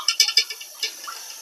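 Fish are washed in water: a few quick, close splashes and sloshes come in a short cluster, then softer trickling.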